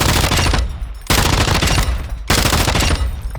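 A light machine gun fires in the Call of Duty DMZ video game: three long, loud, close automatic bursts separated by short pauses, with no talking.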